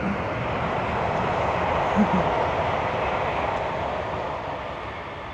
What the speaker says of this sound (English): I can hear a train coming now